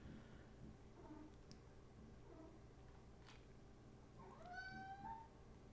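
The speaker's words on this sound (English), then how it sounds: "You can probably hear her meowing on the other side of my door." A house cat meows on the far side of a closed door, muffled and fairly faint over a low room hum, with a soft cry near the start and a clearer rising meow toward the end.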